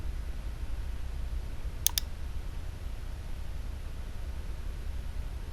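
Two quick computer mouse clicks sound close together, crisp and near, against a steady low hiss of background noise.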